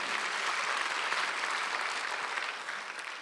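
Church congregation at a Sunday worship service breaking into dense, continuous applause that holds steady and then tapers slightly at the end, with no talking over it.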